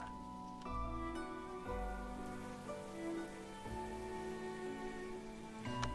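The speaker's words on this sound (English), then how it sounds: "Rainy season has started." Rain falls at the start of the rainy season in Amazing Cultivation Simulator: a soft, steady patter of drops on surfaces sits under sustained, gently shifting tones, with no voices.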